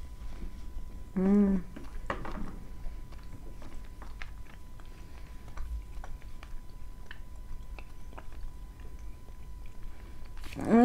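Faint, close chewing of a piece of kaolin clay, with soft irregular crunches and clicks spread over several seconds and a brief voiced sound near the start and end.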